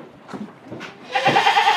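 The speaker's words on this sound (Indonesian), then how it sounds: "Ini untuk kambing burnya teman-teman." A Boer goat on a farm, at feeding time, gives one loud, close, wavering bleat after some quieter rustling and shuffling, with no one talking.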